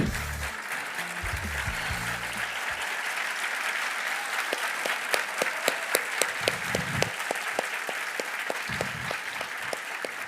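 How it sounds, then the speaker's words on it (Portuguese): Audience applause at a talk event: sustained, even clapping from a crowd that grows crisper and more distinct in the middle, with low rumbles of movement underneath. "São eles que merecem todas essas palmas."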